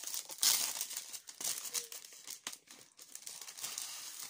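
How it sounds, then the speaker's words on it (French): Close, crisp crinkling and crumpling of paper in irregular bursts, with a few sharper rustles. "je suis désolée pour le bruit du papier"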